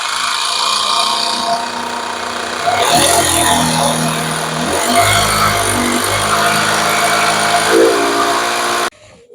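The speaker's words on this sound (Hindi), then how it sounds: "चलिए इस तरह से इसको ड्रिल कर लेते हैं।" A power drill bores holes into a wall to mount a split AC indoor unit, making a loud, steady whining grind whose pitch wavers as it bites, then cuts off abruptly.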